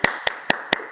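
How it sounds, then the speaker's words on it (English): A lone participant in an online session claps at the close, five crisp, evenly spaced hand claps about four per second, close to the microphone and isolated against quiet. "just give a big round of applause for Michael"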